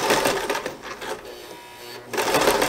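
A sewing machine stitches a fabric Halloween flag banner, a steady loud mechanical whir that eases off in the middle and then picks up again at full speed near the end.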